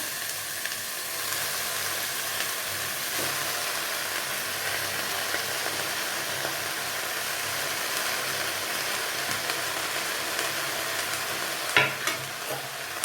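Spinach greens fry in a pan over onions for a Tamil keerai poriyal, giving a steady dense sizzle with a soft stir near the end, close and continuous with no talking.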